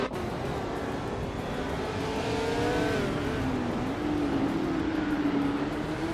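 Racing cars at Sonoma, among them a vintage 1968 Surtees TS5, engines droning loud and continuous as one rises steadily in pitch while accelerating, no voices over the roar.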